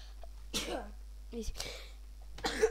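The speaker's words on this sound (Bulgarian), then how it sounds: "Малко кихам." A person sneezes a few times in short bursts while playing Minecraft, the sharp noisy blasts standing out close and fairly loud over a steady low hum.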